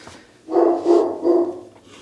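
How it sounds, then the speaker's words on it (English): Dog barking upstairs in a house while a sewer pipe inspection goes on below, three muffled barks in a row, heard through the floor at moderate loudness. "Dog's barking upstairs as I go down in."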